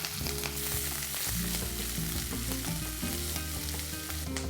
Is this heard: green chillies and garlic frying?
yes